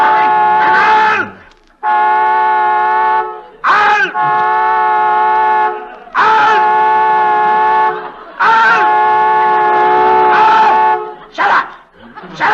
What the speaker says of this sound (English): And stop honking that horn.